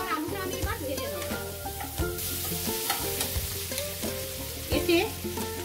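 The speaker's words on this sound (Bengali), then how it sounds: "মূলো আর আলুটা আমি এবার ভেজে নেব।" Radish and potato pieces fry in a pan with a steady oil sizzle, broken by scraping and clinking as they are stirred, close up and moderately loud.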